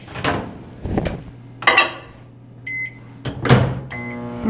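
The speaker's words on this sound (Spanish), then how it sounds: "Necesitamos poner nuestros 15 gramos de mantequilla al microondas a que se derrita." Microwave oven melting 15 grams of butter in a kitchen, heard as door clunks and knocks, then a steady hum with bright electronic beeps, close by and without talk.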